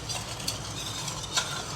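Sugar syrup being stirred in a pan for gulab jamun, a soft continuous bubbling hiss with a couple of brief scraping strokes, close and fairly quiet.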